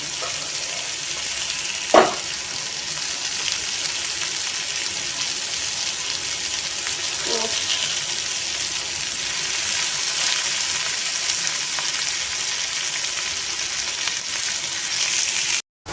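Potatoes fry in a pan with an even, continuous sizzle and hiss that fills the whole stretch, broken once or twice by a brief stir or clink.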